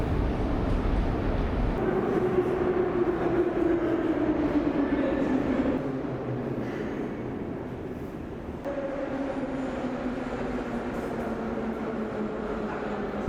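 A Minsk metro subway train runs with a loud steady rumble and rising, falling motor whine, its tone shifting as it travels through the tunnel.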